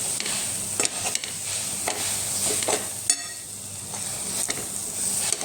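Anarse dough made from rice, jaggery and fresh grated coconut is stirred and mixed in a pan. A steady, close, moist churning runs throughout, broken by sharp taps and scrapes of the spoon.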